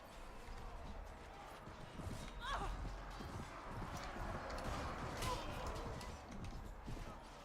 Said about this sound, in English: I'm not used to a horse this fast.